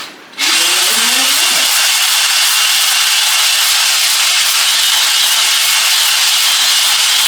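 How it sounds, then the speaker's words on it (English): A loud, close electric drill whines steadily after a brief start, its motor cutting in and out at high pitch with slight fluctuations. "Drill don't like it. It's like cutting in and out."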